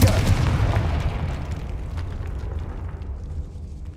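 A Confringo spell explodes in Hogwarts Legacy with a heavy, close boom that rumbles and slowly fades over a few seconds.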